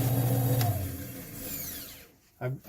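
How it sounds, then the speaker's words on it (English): Drill bit boring into a duck call insert, a brief whine of the power drill winding down, followed by a pause and a short scrape or knock of the workpiece. "Now I've reached my drilling depth."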